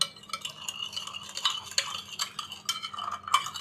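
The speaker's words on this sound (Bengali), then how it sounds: "দিয়ে দিব 1 চামচ ইস্ট, 2 টেবিল চামচ চিনি ও হাফ চামচ লবণ। সব কিছু মিশিয়ে নিব।" A spoon stirs yeast, sugar and salt together in a bowl, giving quiet, irregular clinks and scrapes against the sides.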